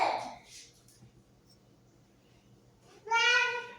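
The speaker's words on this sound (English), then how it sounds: "and guys, excuse the noise. The kids are home." Children babble and chatter faintly in the background at home, short bursts of small voices with quiet gaps between.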